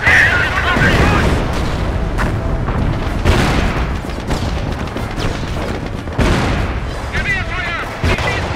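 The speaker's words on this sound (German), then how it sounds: "Gewehrfeuer! Sie schießen auf ihn!" Rifle and artillery fire from the World War II strategy game Company of Heroes, repeated sharp shots and booms over a constant battle din, with in-game voices shouting between the bursts.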